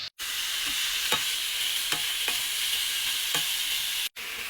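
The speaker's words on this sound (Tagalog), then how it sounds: "ilalagay na natin yung pork. Mekos-mekos lang mga day. Tapos pag mag-brown siya, ay lalagyan natin ng water." Pork sizzling in a pan with garlic and onion while being browned for sinigang, a steady close frying hiss broken by several light stirring scrapes, with brief silent gaps at the start and end.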